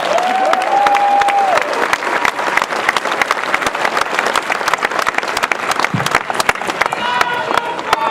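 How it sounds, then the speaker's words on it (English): Hall of Fame ceremony audience breaking into loud sustained applause with cheering, a dense wash of clapping that fills the whole stretch, with a few scattered shouts. "So give yourselves a round of applause for that."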